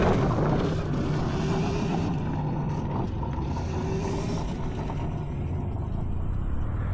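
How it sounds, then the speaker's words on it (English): A converted electric Honda TRX90 ATV runs off-road with a thin, steady motor whine, mixed with mechanical rattling and low rumble from the trail, loud and close throughout. "all you hear is like the whine of the motor"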